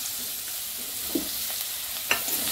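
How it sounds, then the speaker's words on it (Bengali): Chopped onions frying in oil in a pan, a steady close sizzle with a few soft stirring scrapes and clicks, no voices. "তো এটা দিয়ে একটু ভাজা ভাজা করে নেবো।"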